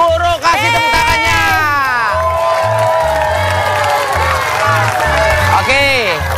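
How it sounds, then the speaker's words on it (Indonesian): Studio audience at a game show cheers, whoops and claps loudly together as teams of male and female teachers are introduced, with a steady musical beat running underneath and excited shouts rising throughout. "Tepuk tangannya."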